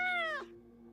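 A cat on a fridge in the game Life Is Strange: Double Exposure gives a single short, clear meow that slides downward and fades, heard alone over a faint background hum.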